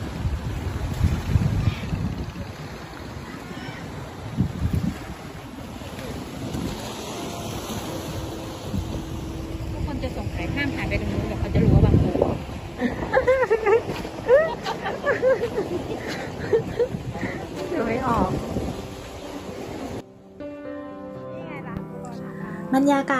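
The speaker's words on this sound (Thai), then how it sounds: "บรรยากาศในวันนี้นะคะลมแรงค่ะแต่โดยปกติริมทะเลลมก็น่าจะแรงอยู่แล้วนะคะ" Strong wind buffets the microphone at the seaside beside a pier stretching out over the sea at Bang Pu, a steady roar with gusts and waves, while someone talks over it; the wind drops away near the end.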